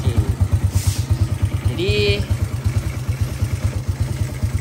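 A Honda EX5 motorcycle idles after a service, with a steady, quick, even putter close by. Someone speaks briefly over it.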